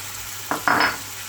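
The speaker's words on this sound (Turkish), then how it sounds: "tavuk göğsümüzü tavamıza alıyoruz ve soteleme işlemimize başlıyoruz" A brief scrape of stirring in a hot pan, followed by a short burst of sizzling from chicken breast sautéing in a frying pan, close by.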